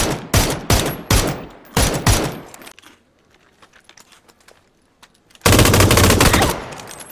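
Automatic gunfire in the battle-royale video game PUBG (Battlegrounds): several sharp rapid bursts up close, then a lull with faint distant pops, then a long sustained burst of loud shots.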